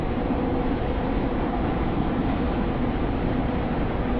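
Train in the Stepford County Railway game slowing as it nears a station, a dense, steady rumble of wheels and motor that holds even throughout, with no talking.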